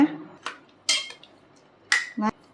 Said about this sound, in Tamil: அப்படியே கரண்டி வச்சு கிளறி விட்டுக்கோங்க